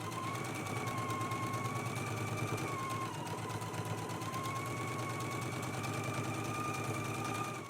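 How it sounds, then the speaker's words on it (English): A sewing machine runs steadily for the whole stretch, stitching the side seams of a dress at a 5/8 inch seam allowance. Its fast, even mechanical whir holds a constant level with no talking. "let's go ahead and stitch in a 5/8 inch seam allowance"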